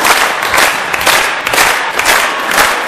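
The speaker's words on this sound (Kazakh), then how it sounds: "фонограмма шапалақ алып келдім өзім" Playback of recorded applause at a wedding celebration, a loud continuous wash of clapping and crowd noise with rhythmic swells, no speech.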